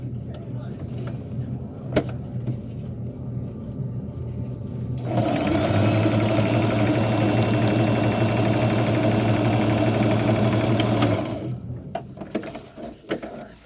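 An electric sewing machine stitching the fabric of a burial gown, running in a steady loud mechanical whir for about six seconds between quieter stretches of handling the cloth.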